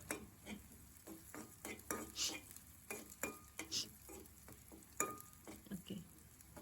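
Garlic and green chilies frying in a pan with quiet stirring, a string of soft scraping and clinking strokes from a utensil at an irregular rhythm, close and faint.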